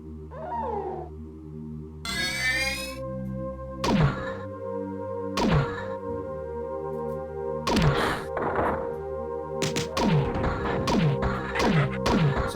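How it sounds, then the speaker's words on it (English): Rockets fired at an enemy in classic Marathon: after a rising whoosh, a string of loud, punchy impacts lands one after another, each ending in a falling whistle, over a droning musical backdrop. "Just gonna send all the rockets I have at it instead."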